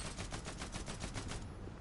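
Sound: gunfire from a weapon in a video game

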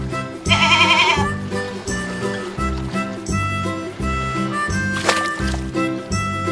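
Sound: goat bleating

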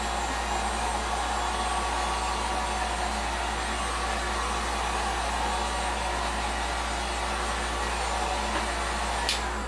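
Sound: heat gun force drying paint on a model

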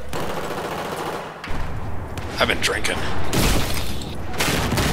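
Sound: gunfire and explosions in video game Battlefield 4 Metro

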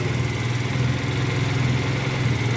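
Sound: Viper Sport 80cc engine starting and running

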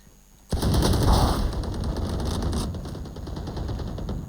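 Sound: Sheriff pistol gunfire in a video game

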